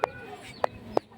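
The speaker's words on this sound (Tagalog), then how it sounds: "yan po ang manok" A backyard chicken gives three short, sharp clucks spaced apart, close by and fairly faint over a quiet background.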